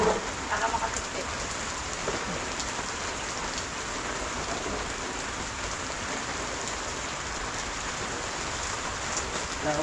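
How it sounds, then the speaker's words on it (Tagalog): Steady heavy rain from a storm pouring down on surfaces on a farm, a dense continuous hiss with scattered drops, unbroken throughout. "Hindi pa natatapos ang hindi matapos-tapos ang ulan. May bagyo."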